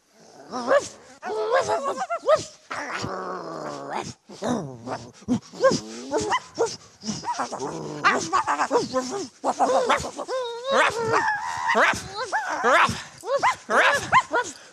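Dogs bark and yip repeatedly in excited bursts, mixed with whining and vocal sounds that seem to overlap with speech.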